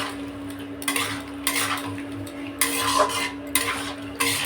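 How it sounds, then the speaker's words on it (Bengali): Potato and paneer are stirred in a pan, with repeated bursts of spatula scraping and metal clatter coming in uneven strokes between short quieter gaps, over a faint background hum. "এবারটা এই আলু আর পনিরটা দিয়ে দেবো। এইবারটা কিন্তু খুব সুন্দর করে কষাতে হবে।"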